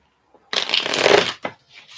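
Tarot and oracle cards are shuffled by hand in one close, crisp riffling burst, followed by a couple of short papery taps.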